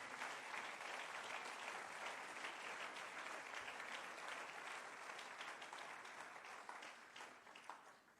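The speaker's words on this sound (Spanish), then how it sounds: "Dele fuerte el aplauso al Señor" Sustained applause from a church congregation fills the room at steady, dense volume, tapering slightly toward the end with a few louder claps.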